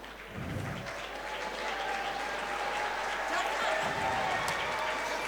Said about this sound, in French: C'est donc le Congo qu'on applaudit